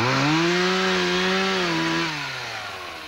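A chainsaw cuts through trees in a muddy forest, its buzzing engine loud and close, pitch sagging briefly under load before easing off toward the end.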